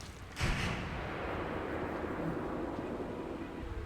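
Gunfire erupts in a tense crime-drama scene, a sharp loud burst at the start followed by sustained rumbling, noisy reverberation, with no clear separate shots.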